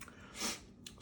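A single crunchy bite into a birria taco topped with chili crisp, close and fairly quiet, the crunch swelling and fading in about half a second with no talking.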